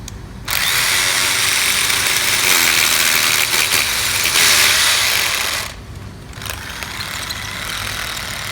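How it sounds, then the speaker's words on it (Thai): An electric drill with a 12 mm bit bores into a floor while a speed bump is being installed, giving a loud steady grinding whine that stops abruptly, then a softer drilling hum resumes. "เราเจาะลงไปในพื้นนะครับ ให้ได้ 2 นิ้วครึ่งพอดีนะครับ"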